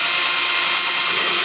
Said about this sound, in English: I'm going to take a small bit, drill down through